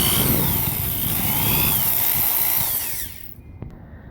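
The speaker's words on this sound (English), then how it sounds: "I've got my smaller drill bit on, which is about the same size as my rod, and I will drill my hole" A power drill with a small bit whines loudly as it bores a hole through a bucket, then stops abruptly, leaving a faint click and near silence.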